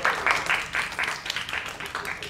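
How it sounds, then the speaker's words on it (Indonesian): Audience applause for a participant at a public speaking and presentation event, a steady patter of many hands clapping continuously under low room noise. "Tepuk tangan untuk Shirley."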